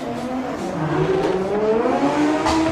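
Drift cars launching side by side at the start of a French Drift Championship battle run, engines revving hard with rising, steady tones under a continuous loud roar.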